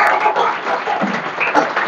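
An audience at a school gathering of students and teachers applauds in a steady, dense wash of clapping that holds at an even level throughout, with no voices over it.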